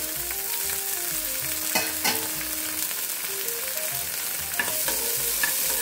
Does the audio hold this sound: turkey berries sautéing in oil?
yes